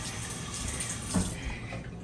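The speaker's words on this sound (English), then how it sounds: "let me turn my water off for a second first" Kitchen sink tap running water in a steady stream, then shut off near the end, fairly quiet and alone.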